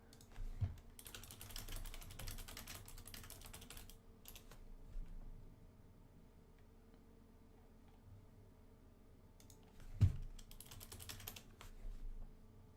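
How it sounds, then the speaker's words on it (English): Steady keyboard typing in quick bursts with short pauses, close by, plus a couple of louder knocks. "I was typing Kelly Miller."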